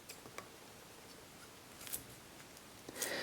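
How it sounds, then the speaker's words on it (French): Kitchen scissors snip candied ginger for a galette des rois, a few faint, sparse clicks spread over a quiet background. "on va le couper avec les ciseaux"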